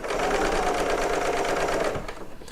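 Serger sewing machine piecing quilt fabric with a clear foot, with a steady fast whirring hum of the running needle for about two seconds, close up, that then stops.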